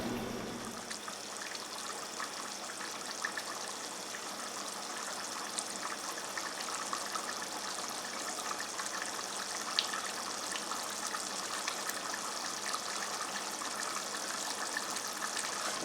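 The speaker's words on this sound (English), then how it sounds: "Brought it up to a boil there." Ground meat gravy made with stock and brown gravy boils in a pot, giving a soft, steady bubbling and hissing simmer that stays quiet and even throughout, with no voices.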